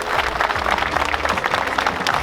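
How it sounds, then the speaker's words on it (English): A crowd gives a round of applause for a racing team at a Silverstone endurance awards gathering, dense steady clapping that stays loud and even throughout. "we can just do our normal round of applause for the team in orange"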